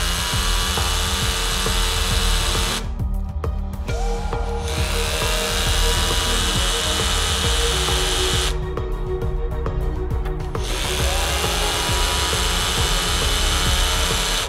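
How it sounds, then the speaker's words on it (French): A lightweight HiKOKI SDS-Plus rotary hammer drills a series of holes, giving a loud, steady mechanical whirr and rattle that eases briefly twice before picking back up. "je me lance, j'en fais d'autres et on voit si ce dispositif, sans utilisation d'une pige mécanique, me permet de faire des trous de manière répétitive et précise"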